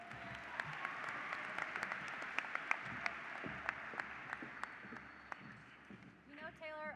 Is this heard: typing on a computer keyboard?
no